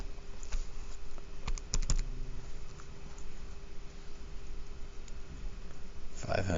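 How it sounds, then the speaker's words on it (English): Numbers are keyed into a calculator as a short burst of close, sharp button taps near the start, followed by a few lone clicks and a quiet stretch. "type it into the calculator."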